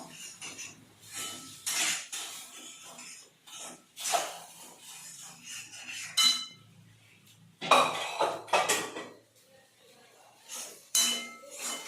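Wheat is stirred in ghee in a pan for payasam. Intermittent metallic scrapes and clinks of a spoon against the pan come in uneven bursts, with brief quiet gaps between strokes.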